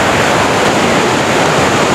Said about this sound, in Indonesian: inilah air terjun Grojogan Sewu